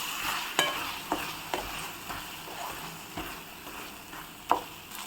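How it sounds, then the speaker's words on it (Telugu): Chili powder, coriander powder and garam masala fry in oil in a pan for a spicy egg curry. Soft sizzling runs under a few sharp spoon clicks and taps as the spices are stirred, with no one speaking. "1/2 స్పూన్ గరం మసాలా యాడ్ చేసి ఫ్రై చేసుకోవాలి."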